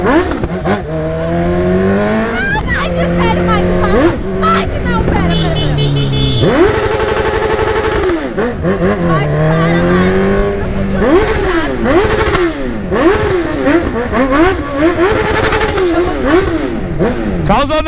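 A 2020 Honda CB1000 motorcycle carrying a passenger accelerates hard, its loud, close engine climbing through repeated rising revs and gear shifts, while riders talk and exclaim over the roar.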